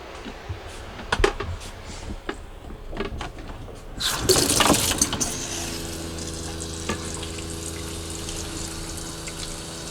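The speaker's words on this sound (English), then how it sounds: "I'm gonna go ahead and fill it almost all the way up with water" Water pours and splashes into a washtub with a rushing hiss, then settles into a steady trickling fill with some stirring and sloshing, in an RV laundry setup.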